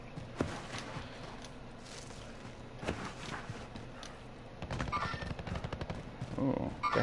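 Gunfire in Call of Duty: Warzone on PS4: scattered distant shots and a few sharper cracks, then a denser burst of rapid fire near the end, quiet and mixed with game ambience.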